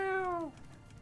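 A single clear cat meow from a Cleocatra slot game, falling slightly in pitch and ending abruptly, followed by quiet background.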